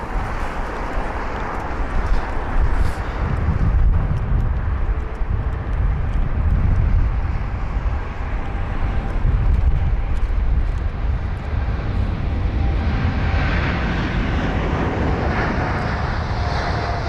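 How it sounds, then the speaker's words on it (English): An Edelweiss Air Airbus A340 airliner landing on runway 27 left at London Heathrow during an emergency diversion: a loud, continuous broadband jet engine roar with wind buffeting, steady throughout with no voices. "The A340 of Edelweiss was heading to Punta Cana, and it had to divert over to London Heathrow"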